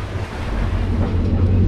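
Strong wind and surging waves while sailing past Dominica, a loud, continuous rushing roar with wind buffeting the microphone and no voices.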